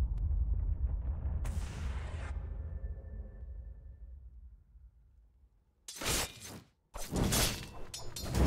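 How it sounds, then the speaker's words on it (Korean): Combat sounds from the Dota 2 video game as a tower takes an attack. A sharp impact fades into a long ringing tail, then comes quiet, then loud bursts of crashing blasts near the end. "레디언트 중부 포탑이 공격받고 있어."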